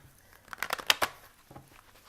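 A Lenormand card deck is shuffled by hand, giving a quick, soft flurry of papery riffles and crinkles close to the microphone before it settles.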